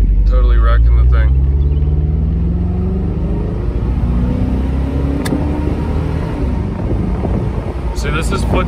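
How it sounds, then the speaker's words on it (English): A Mercedes SL500 engine accelerating at full throttle from inside the cabin, a steady loud rumble with rising tones as revs climb, followed by a sustained drone. "See, this is foot to the floor."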